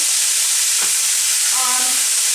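Loud, steady sizzling of food frying in a pan, with a brief scrape of stirring partway through.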